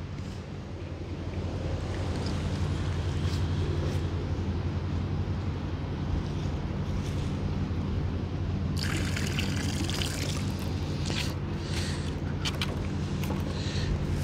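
Water trickles and pours steadily onto spread-out river sediment from the Connetquot River, a continuous close liquid wash with faint dribbling toward the end.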